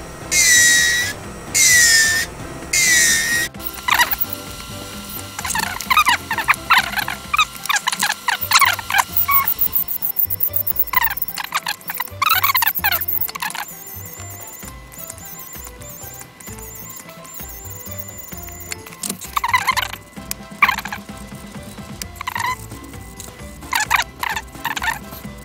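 A hand file rasps back and forth over a plastic sheet jig for a Gunpla build, giving close, scratchy strokes in bursts, with rhythmic stretches and busier rubbing that fades and returns.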